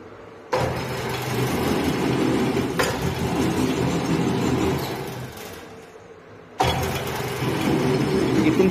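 A lathe runs with its automatic gear feed engaged, giving a steady mechanical hum and rumble that cuts out, fades down and then starts again abruptly.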